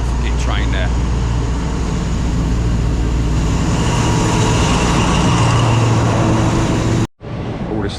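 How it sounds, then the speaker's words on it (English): A loud, steady rumble of a train rolling past up close, with rattling and hum throughout, then cutting off abruptly near the end. "There is a great big fucking train there."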